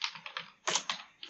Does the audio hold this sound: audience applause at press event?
no